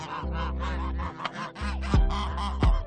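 Several geese honk loudly and close in a rapid run of harsh, nasal calls, a few sharp clucks breaking in between, with no talking.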